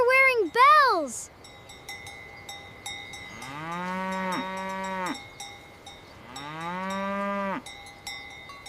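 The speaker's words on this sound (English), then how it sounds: "Why do the cows wear bells?" Cows in a Swiss village moo loudly and repeatedly, long drawn-out calls, while cowbells clink steadily in the background throughout.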